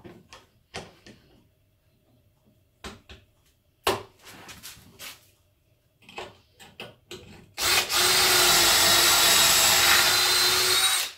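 Pocket hole screws are driven into the side wall of a fitted wardrobe: scattered wooden knocks and clicks come first, then a loud, sustained whirring drive runs for several seconds up close.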